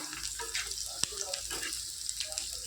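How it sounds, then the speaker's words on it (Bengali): Soft sizzling of onions and chillies frying in a pan, with scattered clicks and clinks of a utensil and faint voices in the background. "পেঁয়াজ ভাজতেছি, পেঁয়াজ লঙ্কা"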